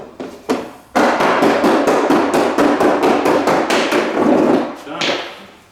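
Interlocking plastic garage floor tiles are tapped into place: a couple of separate knocks, then a rapid, even run of loud taps at about four per second before they stop.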